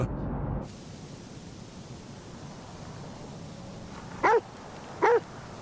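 A dog in a dubbed horror film gives two short, sharp barks about a second apart, moderately distant over a quiet hiss, after a brief louder burst of noise at the start.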